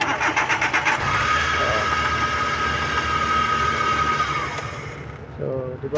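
A Suzuki DA64 car engine cranks and catches, settling into a steady mid-pitched idle that runs loud and close before briefly dipping; someone speaks near the end.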